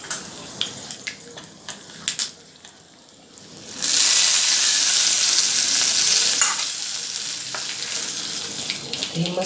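Mustard seeds, curry leaves, green chilli pieces and asafoetida hit hot oil for a chutney tempering, bursting into a loud, steady sizzle after a few light clinks. The sizzle holds for a few seconds, then eases into softer crackling.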